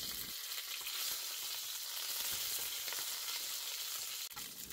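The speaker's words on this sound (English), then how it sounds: "On a medium high heat, I'm going to use 2 tablespoons of olive oil, 1/2 a teaspoon of mustard seeds, 1/2 a teaspoon of cumin seeds, and the curry leaves" Mustard seeds, cumin seeds and curry leaves sizzle in hot olive oil over medium-high heat, a continuous bright crackle with occasional small pops, close and alone.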